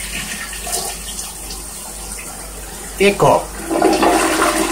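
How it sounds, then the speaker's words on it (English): A toilet flushes carrots down, a steady rush of water running throughout at moderate level, with a brief spoken voice and a couple of louder gurgling surges near the end. "Flushing carrots down the toilet."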